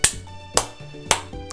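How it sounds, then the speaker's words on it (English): A person claps slowly, three sharp, evenly spaced claps about half a second apart, over a soft tonal video-game music bed. "That's a slow clap."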